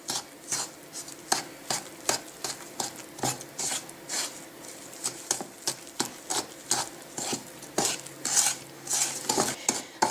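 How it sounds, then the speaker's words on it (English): Wooden spoon stirring toothpaste powder in a plastic bowl: a steady run of soft scraping, tapping strokes, close and fairly quiet, with no talking. "and then we're just going to start stirring. And I stir slowly because I don't want that powder to be up in the air"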